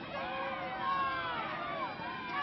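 Spectators at an Oklahoma versus Iowa State college softball game react to a strike call with a brief, fairly faint swell of overlapping voices and whistly jeers.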